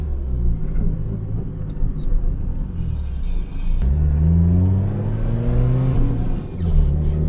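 A turbocharged Toyota AE86 with a 4AGTE engine revs hard and pulls away, its loud engine note rising and falling in pitch through several climbs, with a steady rumble underneath and no talking.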